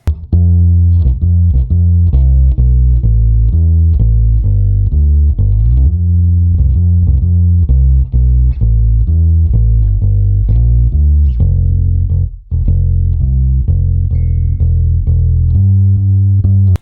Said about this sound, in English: It's still going to be clean-ish, but have a little bit of drive to it.